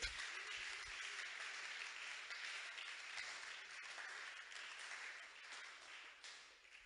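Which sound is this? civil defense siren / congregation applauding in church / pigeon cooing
congregation applauding in church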